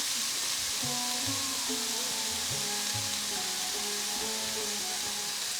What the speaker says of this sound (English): Just going to kind of saute it. Just to soften it.